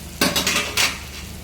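Flattened rice (poha) tipped into a pan of fried peanuts and garlic, giving two short bursts of dry rattling and scraping against the metal pan, close and fairly loud, with no talking.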